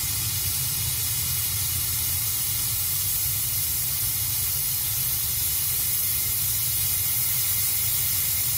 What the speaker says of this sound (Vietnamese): Khi các bạn cho thêm oxy nữa thì ngọn lửa chúng ta nó kêu to hơn này.